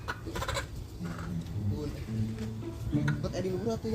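Chickens cluck loosely in short bursts at moderate distance, partly under people talking.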